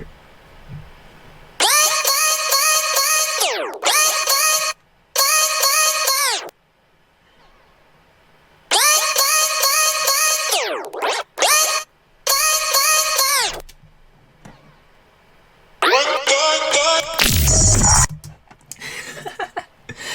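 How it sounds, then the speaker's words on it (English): Stuttering, chopped-up electronic sample fragments with abrupt cuts and pitch-bending swoops, playing in bursts separated by brief silences. "So I did add a lot of little glitchy elements."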